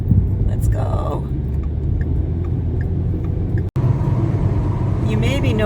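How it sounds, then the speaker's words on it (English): A transport truck overtaking a car on a Canadian highway, heard from inside the car as a steady low road rumble and engine drone, with a person speaking over it. "a transport truck's trying to get ahead of us"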